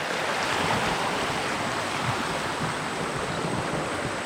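A small stream on a morning walk through the interior of Panayam flows with a constant rushing, gurgling wash of water, close and steady without pause.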